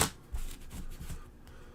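Cards shuffle in the Super Mega Lucky Box video game: a short soft flurry of riffling taps, quiet and close, with no voices.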